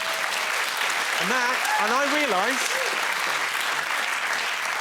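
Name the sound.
studio audience applause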